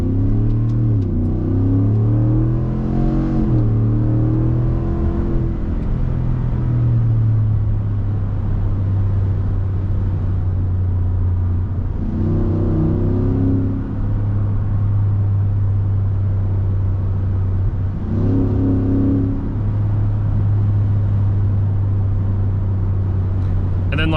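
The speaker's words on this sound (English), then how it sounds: "I'm gonna put it in sport mode here and then we'll do, you know, kind of a good acceleration." 2023 Ford F-150 with the 5.0 V8 and a Flowmaster FlowFX exhaust accelerating in sport mode. A loud, deep exhaust rumble rises through several gear pulls and shifts, with a steady drone between them.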